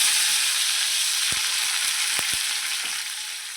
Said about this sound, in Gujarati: તો થોડીક ડુંગળી નાખશું.